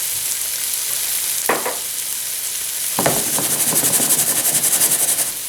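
Shrimp sizzling steadily in olive oil in a pan for shrimp Provencal, a loud continuous frying hiss with a couple of brief stirring scrapes and a rising crackle near the end.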